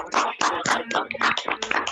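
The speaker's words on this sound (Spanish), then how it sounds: "Un aplauso, por favor, al maestro José Miguel." A lecture audience applauds after a talk on fundamental rights, giving a dense, close burst of clapping that runs steadily for a couple of seconds.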